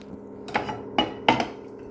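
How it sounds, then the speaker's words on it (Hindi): Cooking pot clattering as it is set on a gas stove: a few sharp metallic clanks and rattles at uneven intervals, fairly close, over a low steady background hum. "मैं जब भी बर्तन रख के इस पे गैस जलाती हूँ ना, हमेशा ऐसी आवाज़ करता है।"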